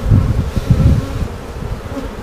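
Honey bees hum in a dense, steady drone as a hive is opened for inspection, the buzzing loud and close with pulsing swells over its whole length.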